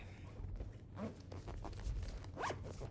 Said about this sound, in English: Zipping it up.